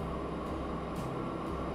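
An electric train in Transport Fever 2 gives a steady, close rumbling drone with a faint hum, holding even for the short stretch without voices.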